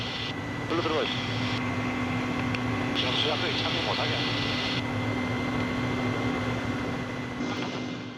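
Helicopter 602, on forest-fire suppression duty, circles in worsening weather; its steady, dense engine drone fills the whole stretch beneath ongoing talk.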